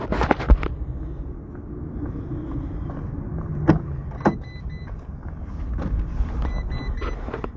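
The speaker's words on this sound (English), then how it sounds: "And we're going to go ahead and start the car." A car running during an air-conditioning recharge job, its steady engine rumble broken by sharp clicks and knocks, with a slight swell near the end.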